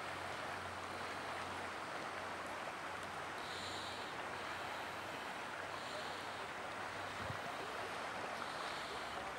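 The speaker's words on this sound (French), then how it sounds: "On entend le clapotis de l'eau." A small trout river in Saint-Casimir, Portneuf, gives a soft, continuous lapping and burbling of water, faint and steady, with a low hum and brief chirps in the background.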